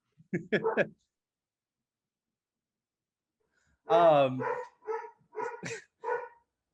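A dog barks at home during a podcast recording: one short bark burst, a pause of about three seconds, then a louder run of several quick barks and yips close to the microphone.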